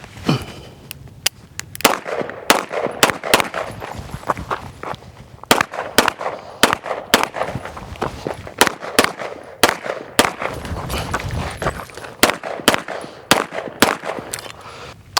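Sharp pistol shots from a CZ Shadow 2 during outdoor carry optics practice ring out in quick irregular strings and clusters, loud and close, with short pauses between bursts and no talking.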